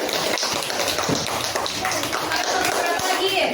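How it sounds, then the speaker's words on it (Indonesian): Classroom applause for a student group after their science demonstration: a steady, dense patter of many hands clapping together, filling the room for a few seconds. "Tepuk tangan buat kelompok 1."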